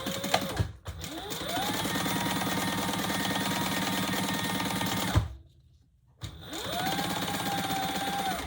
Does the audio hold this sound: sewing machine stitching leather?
yes